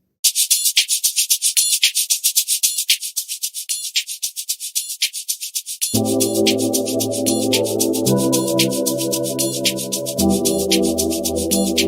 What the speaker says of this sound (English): the drop section, I added an extra shaker,